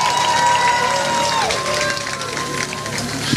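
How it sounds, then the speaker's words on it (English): A graduating high school class applauds at a commencement ceremony. The clapping and crowd noise form a broad, steady roar, layered with a held tone that bends downward partway through. "Give yourselves a round of applause."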